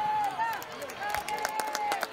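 Spectators at an amateur football match between Canena Atlético and Úbeda Viva clap for a substituted player, a patchy scatter of hand claps behind close commentary and whistling.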